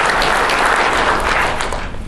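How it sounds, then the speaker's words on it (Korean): An audience claps steadily and loudly for health authorities and medical staff fighting MERS, a dense continuous round of applause that fades slightly at the end. "방역당국과 의료진한테 우리가 박수를 보내야 됩니다"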